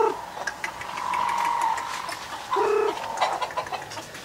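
Chicken clucking nearby in short, pitched calls over quiet background noise, with a few soft extra clucks and rustles.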